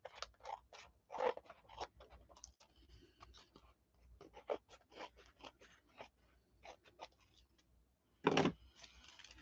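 Scissors trim paper for a handmade glue book cover, producing a quiet series of close, crisp snips and rustles, ending with a louder crunch of paper.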